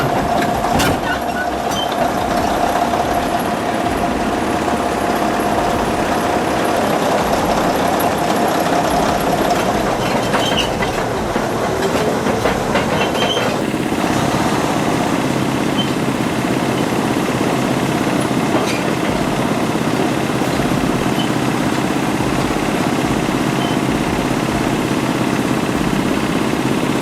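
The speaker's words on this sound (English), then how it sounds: "A small gasoline engine coaxes the giant diesel to life" An old giant diesel engine being started by a small gasoline engine: a loud, steady mechanical rumble with a high whine early on, then a deeper, even running drone that carries on alone.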